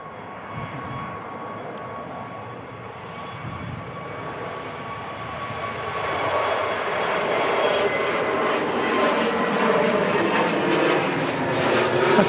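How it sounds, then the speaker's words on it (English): Turkish Airlines Airbus A320neo on its takeoff roll at Manchester Airport, a steady loud engine roar that swells gradually as the jet accelerates, with no talk. "Turkish A320 on Neo is on the takeoff roll."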